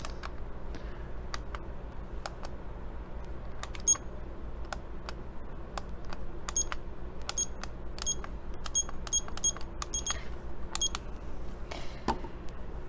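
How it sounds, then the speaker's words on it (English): A kitchen timer is set to four minutes for steeping tea, with a steady run of small clicks and short electronic beeps, close and fairly quiet over a low background hum. "I'm going to set my timer for 4 minutes."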